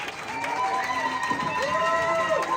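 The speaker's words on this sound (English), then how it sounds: "Round of applause right there." A rally crowd at a pro-Israel student gathering cheers and applauds a speaker, a steady mass of voices and shouts at moderate level with no single voice standing out.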